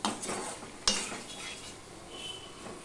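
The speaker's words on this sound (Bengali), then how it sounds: "তোমাদের সাথে কথা বলতে বলতে সম্পূর্ণটা আমি মিশিয়ে নিলাম।" A spoon scrapes and clinks through a drumstick curry in a pan, close and moderately quiet, with one sharp metallic knock near the start and a light sizzle under the stirring, no talking.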